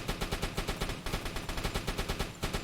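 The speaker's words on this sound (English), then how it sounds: "Give it a cannon shot." Rapid bursts of deck gun fire from the submarine game UBOAT crack in a steady, quick rhythm, loud and continuous with no pauses or talk.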